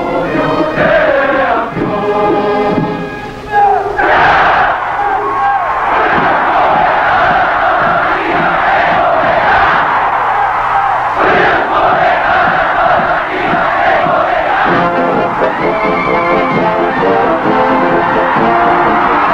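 A massive stadium crowd at the 1976 Korea University versus Yonsei University games roars and chants, loud and sustained, in rhythmic massed shouts that swell and surge throughout.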